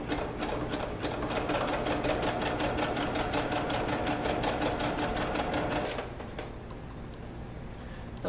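A sewing machine stitches fabric on a zigzag setting, a fast, even mechanical chatter running steadily up close for about six seconds before stopping.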